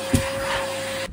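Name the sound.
vacuum cleaner running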